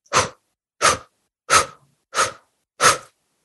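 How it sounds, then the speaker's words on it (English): Five quick, forceful exhales through the mouth as part of a breathwork pattern, each a short breathy burst spaced evenly about two-thirds of a second apart, close and alone against silence. "It's just a quick exhale through the mouth."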